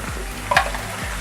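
Mutton sizzles in hot oil while a spoon stirs it with a couple of quick scraping strokes, and a steady close frying hiss runs underneath.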